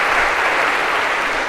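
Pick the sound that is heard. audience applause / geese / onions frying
audience applause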